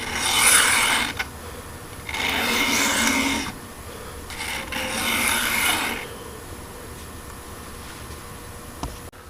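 A knife blade rasps across a sharpening stone in three long strokes, softer steel being sharpened one side at a time, each pass a bright scraping rub separated by brief pauses.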